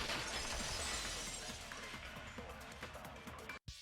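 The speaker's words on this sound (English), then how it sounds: "the girls heard the sound of the window shattering" A window of glass shattering in the video game Danganronpa 2: a loud, bright crash that slowly decays into a scattered tinkling rattle before cutting off abruptly.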